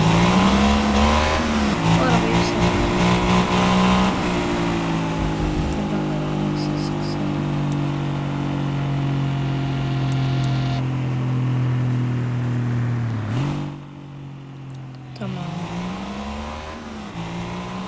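A Rolls-Royce engine revs loudly in a video game, rising and falling in pitch through several sustained runs before a dip and a fresh climb, with a voice talking over it.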